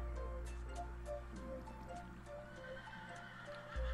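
A Minecraft horse whinnies amid hoof clip-clops over a steady low background hum, with no talking.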